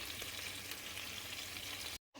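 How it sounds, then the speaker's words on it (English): Steady, dense sizzling and crackling of six marinated tandoori chicken pieces frying in hot oil in a pan, close and even throughout, cutting off abruptly near the end. "I am frying around 6 pieces over here."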